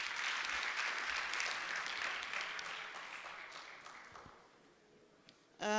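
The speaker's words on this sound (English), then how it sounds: "Please clap hands for him." Applause from an audience at a university postgraduate research day, a steady patter of many hands that gradually thins and fades out before a sudden louder sound at the very end.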